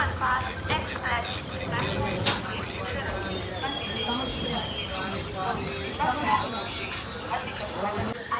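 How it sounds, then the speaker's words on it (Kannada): The Panchaganga Superfast Express arrives at Kundapura station with a rolling rumble of wheels, high metallic brake squeals and clatter, while people talk nearby over the train noise. "ನಮ್ಮ ಪಂಚಗಂಗಾ ಎಕ್ಸ್ಪ್ರೆಸ್ ಬಂದಿದೆ ಈಗ ಕುಂದಾಪುರಗೆ."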